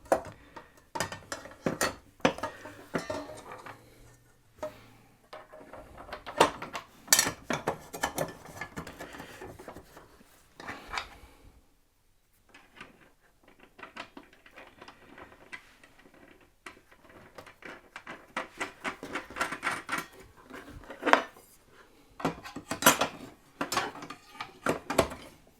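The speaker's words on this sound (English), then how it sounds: "Let's just drop this blade back in." Blade dropped back onto the arbor of a DeWalt DWE7485 table saw: a run of close metallic clicks, clanks and rattles, a brief quiet pause partway, then more intermittent handling noise.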